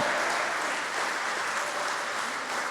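A church congregation gives a soft, even burst of applause, a steady wash of many clapping hands heard at a distance for a few seconds.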